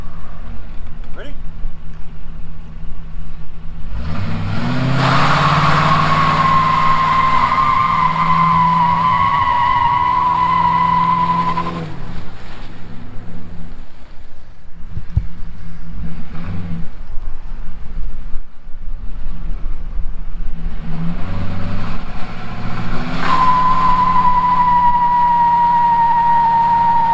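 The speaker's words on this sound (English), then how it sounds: "Doing a burnout in your car, don't forget to turn the traction control off." A police car does a burnout with traction control off, its engine revving hard as the tires squeal and skid loudly in two long bursts, with a rumbling idle between them.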